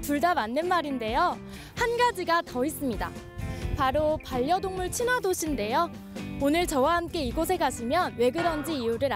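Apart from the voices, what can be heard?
No everyday noises stand out.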